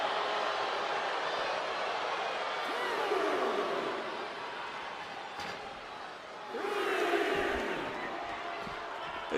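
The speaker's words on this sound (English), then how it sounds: "What a raucous crowd here tonight." Loud, raucous crowd at a televised WWE Raw wrestling arena, a dense continuous roar that swells at the start and again near the end, with a thud or slam cutting through.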